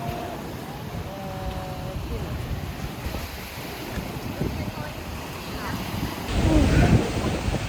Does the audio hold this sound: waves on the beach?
yes